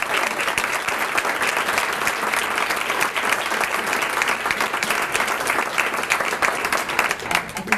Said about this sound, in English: I gave a big round of applause.